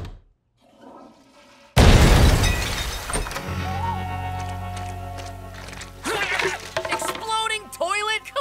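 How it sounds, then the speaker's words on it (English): Cartoon exploding toilet prank: after a quiet moment a sudden loud crash and rushing water burst out, settling into a lingering flush-like roar while voices speak over it. "Exploding toilet?"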